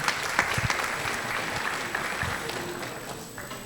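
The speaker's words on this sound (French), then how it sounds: "Je pense qu'on peut les féliciter et les applaudir." At a digital festival in Africa, an audience applauds the event organizers with a sustained round of clapping, several individual claps popping out near the front of a steady crowd wash.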